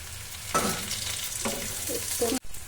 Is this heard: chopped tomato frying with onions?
yes